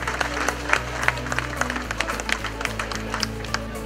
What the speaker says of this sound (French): On les applaudit tous les deux, s'il vous plaît, merci.